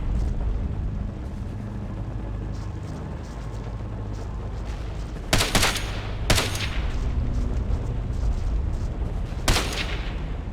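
Several sharp gunshots ring out in the video game Ghost Recon Advanced Warfighter, spaced irregularly over a steady rumbling background of battle noise.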